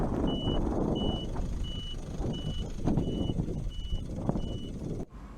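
A dump truck hauling sand backs up, its reversing alarm giving a steady run of evenly spaced beeps over a continuous engine rumble, close and loud, cutting off abruptly near the end.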